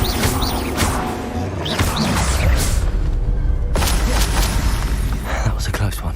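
A Confringo blasting spell erupting in Hogwarts Legacy, loud booming bursts and whooshes amid dense, chaotic combat noise and sharp cracks, with a voice heard over the fight.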